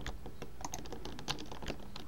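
Rapid, uneven clatter of computer keyboard keys being typed, close and fairly quiet, with brief pauses between clusters of keystrokes and no one speaking.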